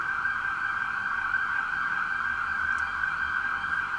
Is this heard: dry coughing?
no